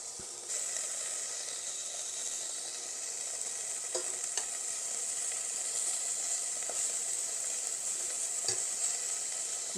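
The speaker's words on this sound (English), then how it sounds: "And we're just going to add another teaspoon of olive oil and do the second batch." A second batch of beef sears in a teaspoon of olive oil, giving a steady, close, bright hissing sizzle that holds even throughout with a few faint clicks and no talking.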